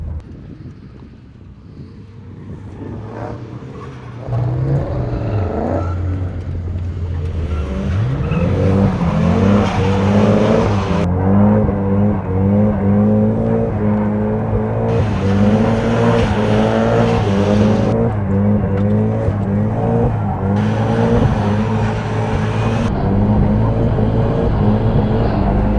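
A new car's engine revs hard and climbs through the gears on the Santa Pod drag strip on a cold evening. The tone rises and drops repeatedly, loud and close, over strong wind noise on the microphone.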